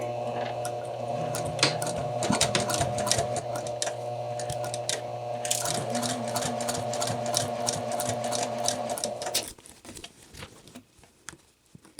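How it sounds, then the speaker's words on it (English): Sewing machine running steadily while stitching a two-piece collar with a stand, a close, continuous mechanical whir with fast rhythmic needle patter for about nine seconds before it stops and quiet handling follows. "I am using the stitching guide on my sewing machine."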